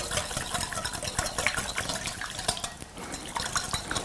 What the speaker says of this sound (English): I'm going to whisk all this together